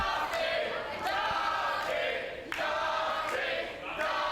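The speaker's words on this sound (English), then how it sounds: "Well, this crowd have got a handle on Looking Sharp quite quickly, haven't they?" Crowd at a live W3L wrestling show reacts with rising and falling shouts and chants, loud swells of voices surging repeatedly over a murmuring arena background.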